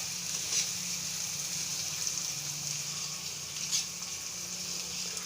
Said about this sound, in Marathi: तेलामध्ये छान परत एक वेळेस कांदा परतून घ्यायचा